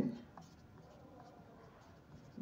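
Pen or chalk scratches out writing in soft, faint strokes against a quiet room background, with a voice briefly heard at the start and end.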